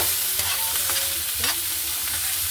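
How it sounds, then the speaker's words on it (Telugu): Potatoes fry in a pan with a continuous close sizzle, while a spoon stirs and scrapes through them in a few short strokes. "వేయించేసాను. ఇప్పుడు బంగాళాదుంపలు వేసాను."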